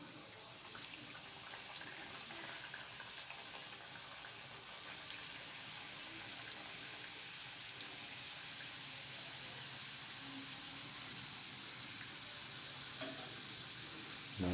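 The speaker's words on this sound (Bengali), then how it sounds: "একটু হালকা আঁচে ভাজতে হবে।" Pitha fry one by one in warm oil over low heat, a dense, even hiss of bubbling oil that carries on steadily for the whole stretch, with faint clinks near the end.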